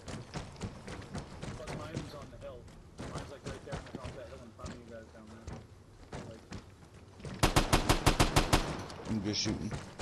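Gunfire in the video game Vigor: scattered single shots and short bursts, then a loud rapid volley of close, evenly spaced shots near the end, with voices talking throughout.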